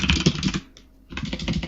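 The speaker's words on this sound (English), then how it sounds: "With my loud keyboard that bothers you." Loud computer keyboard typing, with rapid dense keystrokes close to the microphone, a brief pause in the middle and then continued clattering typing.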